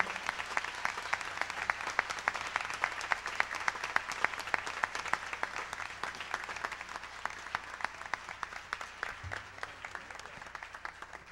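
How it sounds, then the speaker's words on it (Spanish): Concert audience applauding, with steady, sustained clapping from a crowd filling the whole stretch at an even, moderately loud level. "Vamos a darle un aplauso a él"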